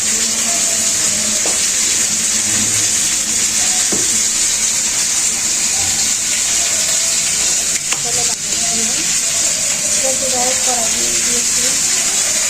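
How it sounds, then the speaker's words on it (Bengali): Ground spices, stone-ground on a grinding slab, tempered in hot oil in a kadai, hissing loudly in a constant, close sizzle that stays steady, with light stirring clicks and faint voices underneath. "এখন আমি তেলে বাগার দিয়ে নেব।"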